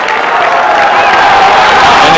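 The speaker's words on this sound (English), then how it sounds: "And the crowd is on its feet" Stadium crowd at a 1997 WSU Cougars versus Oregon Ducks track and field meet, a steady loud roar of cheering from the grandstands that holds without a break, with an announcer talking over it.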